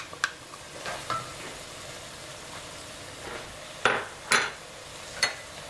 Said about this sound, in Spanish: Agregamos la zanahoria.